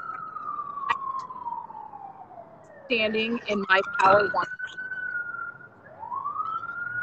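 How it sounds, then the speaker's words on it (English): A police siren wails and slides in pitch as it passes, with a short stretch of speech cutting in midway before the wail rises again. "I think my siren might be cutting out your sound."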